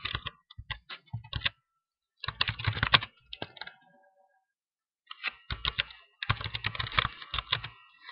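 Typing on a computer keyboard to write a chat message, heard as bursts of close, quick key clicks separated by short pauses, with no talking.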